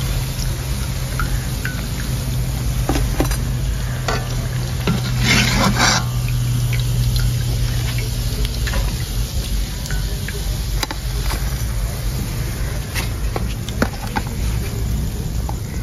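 Egg and onion fritters (dim peyaji) fry in hot oil with a steady, close sizzling hiss, broken by scraping and stirring clicks of a utensil in the pan.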